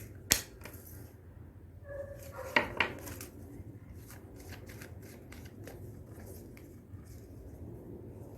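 Oracle cards being shuffled and drawn, faint papery riffles and soft slaps, with one sharp snap near the start and a couple of quick flicks partway through, in a quiet room without talking.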